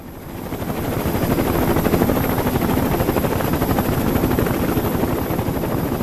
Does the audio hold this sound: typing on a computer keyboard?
no